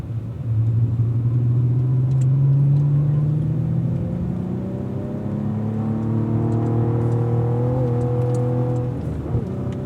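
A Cadillac V-series race car on the Spring Mountain track: loud, close engine drone whose pitch climbs and shifts through the gears, ending with a quick rev blip as it downshifts.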